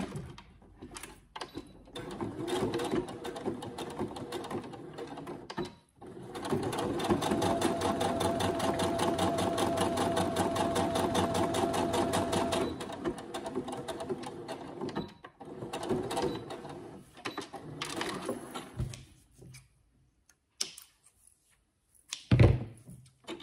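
A sewing machine stitches a small seat belt shoulder pad in a long, even run of about seven seconds, flanked by shorter bursts, handling clicks and fabric shuffling, with a sharp thump near the end.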